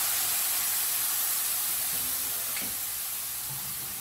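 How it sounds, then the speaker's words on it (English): Stock poured into a hot pan sizzles and hisses steadily as it deglazes, a loud, even wash of steam and bubbling with no talking. "watch what happens when I get the stock added right into that pan"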